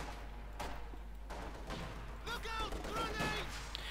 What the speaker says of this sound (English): Another grenade assault there.